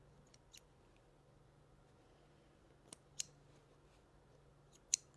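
Sewing scissors trimming the stitches on a bucket hat, with a few faint ticks and then three or four sharp, close snips spaced unevenly against a quiet, humming room.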